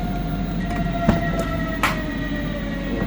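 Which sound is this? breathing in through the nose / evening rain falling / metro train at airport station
metro train at airport station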